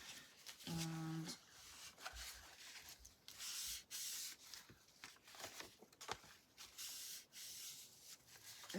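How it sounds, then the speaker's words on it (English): Tissue rubbing excess glue off paper while making a journal tag, heard as soft repeated scuffing and brushing strokes close by, with a brief tonal squeak near the start. "So we'll rub the extra glue off there."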